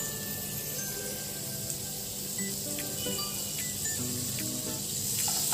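Butter sizzling in a preheated pan, a steady soft hiss and crackle of frying that runs close and even the whole time, with no talk over it.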